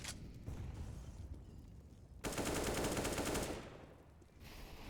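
Counter-Strike gunfire during a wallbang attempt on the Train map in a competitive esports match: a faint, sustained burst of rapid shots comes after quieter ambient game noise.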